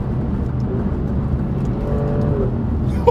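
A Mercedes A45 accelerates hard along a dual carriageway, giving a steady, sustained engine roar with a faint rising tone that holds for the full three seconds.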